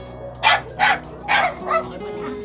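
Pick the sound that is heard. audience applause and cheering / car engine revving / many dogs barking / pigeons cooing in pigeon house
many dogs barking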